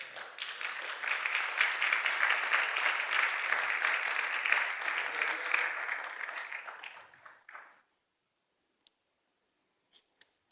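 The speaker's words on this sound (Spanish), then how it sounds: "Es para que le hubiera dado un aplauso al Señor." Congregation applause for the Lord during a Bible study, a sustained round of clapping lasting about seven seconds before stopping abruptly, followed by a few faint clicks.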